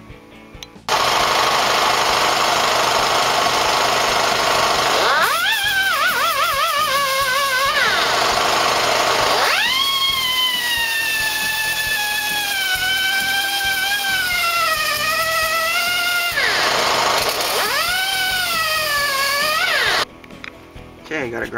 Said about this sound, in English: So we're going to put it in the vise and hit it with a sanding disc.